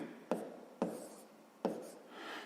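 Pen or pencil writing numbers by hand on paper for long division in a 5th-grade maths exercise: three sharp close strokes or taps with soft scratchy scribbling between them, no talk.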